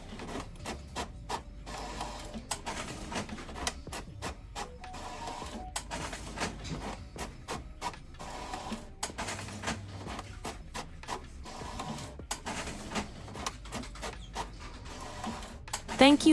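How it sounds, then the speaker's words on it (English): An Epson WorkForce Pro WF-C5890 pigment printer runs on heavy 300 GSM paper, a continuous mechanical whir with rapid rhythmic clicks and shuttling pulses at a moderate, steady level. "Check out the real printing speed on heavy 300 GSM paper."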